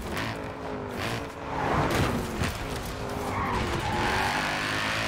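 Audi RS4 in the Forza Horizon 4 racing game, its engine droning loud and steady with harmonic tones while the tyres skid and squeal across the whole stretch, with no talking.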